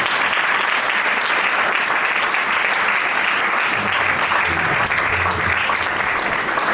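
A church congregation bursts into steady, dense applause during Sunday worship, loud and continuous throughout with no pause.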